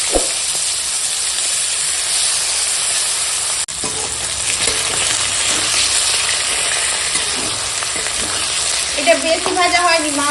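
Black fish frying in a pan, a steady loud sizzle with spattering oil running throughout, a brief dip midway and some clinking near the end.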